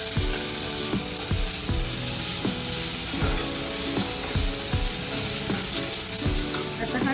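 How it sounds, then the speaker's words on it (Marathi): Ginger garlic paste frying hard in a pan for a village-style clam curry, a loud dense sizzle with regular rhythmic thuds and scrapes from stirring throughout. "हे 1 चमचा आलं लसूणची पेस्ट टाकते, थोडी कमी पडेल असं। आता ही परतून घ्यायची।"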